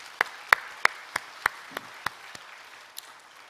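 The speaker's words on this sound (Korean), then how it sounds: "뜨거운 박수" A church congregation gives a short burst of applause: a handful of distinct, sparse claps rising and fading, fairly faint and spaced out rather than a dense ovation.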